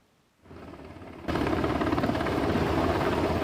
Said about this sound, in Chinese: 直升机降落